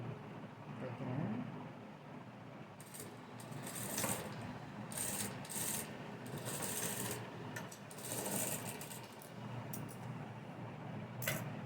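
Sewing machine stitching a blouse, a fast continuous mechanical whir with a rapid ticking rhythm, running in long stretches with short pauses, close and fairly quiet over a low room hum.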